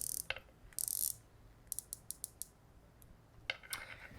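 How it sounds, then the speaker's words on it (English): A bronze Spinnaker Tesei dive watch bezel turns in a quiet room, giving a few crisp ratcheting clicks: short bursts, then single spaced ticks, close and faint. "It feels a lot more solid and a lot more tactile and clicky than some of the"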